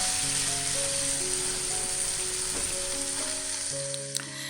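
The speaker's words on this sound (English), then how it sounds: "So while you're stir frying the minced chicken, also remember to break it into smaller pieces" Minced chicken stir-fried in a pan for a squid stuffing, giving a steady, loud broadband sizzle throughout with faint scraping of the spatula, no voices.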